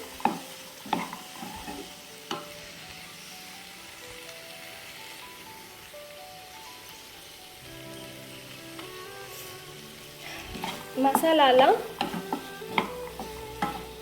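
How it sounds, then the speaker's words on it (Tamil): Masala stirred into dal and chickpeas in a pan over a low frying sizzle, with occasional spoon taps, then a louder stretch of scraping and clattering near the end, close by with no talking. "மசாலாலாம் நல்லா இந்த பருப்போட நல்லா மிக்ஸ் ஆகுற வரைக்கும் நல்லா கலரி விட்டுக்கோங்க."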